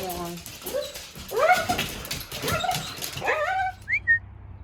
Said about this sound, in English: I'm here with the dogs